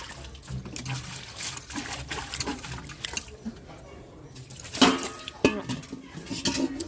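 Washing utensils and dal containers at home, with running water splashing and metal pots and spoons clattering in sharp bursts, close by, with a voice talking faintly underneath.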